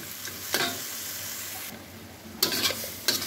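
Frozen broad beans fry in a pan with a steady sizzle, while a spatula stirs them with a few sharp scraping strokes. No voices.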